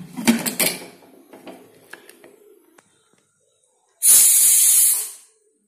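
A pressure cooker cooking cauliflower stem curry lets out one sharp, loud steam whistle lasting about a second, after soft kitchen clatter and handling sounds.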